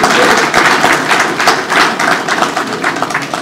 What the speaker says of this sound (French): Encore applaudissements, s'il vous plaît.